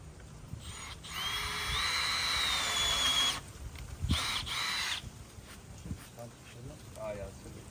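Power drill countersinking a screw hole on a house build, a steady whine for about three seconds, then two shorter bursts, with people talking around it.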